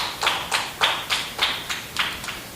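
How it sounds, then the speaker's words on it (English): A short, sparse burst of hand clapping at a school maths and science quiz, around ten separate claps in an uneven rhythm, fairly close and without voices. "Round of applause for them."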